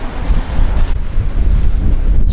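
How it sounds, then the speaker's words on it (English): Strong wind gusts outdoors at a stone-walling site, buffeting the microphone with a loud, low, rumbling roar that surges and eases without pause. "it's quite windy"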